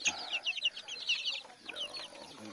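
Darag native chickens, a flock of about two dozen in a new backyard coop, cluck close by in a busy run of overlapping short calls.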